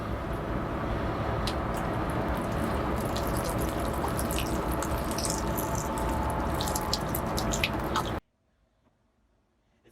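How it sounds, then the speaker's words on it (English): Water pours steadily onto potted hibiscus cuttings in a propagation tub, a continuous splashing and trickling wash for about eight seconds with faint drips, then stops abruptly into near silence. "Put a little more water."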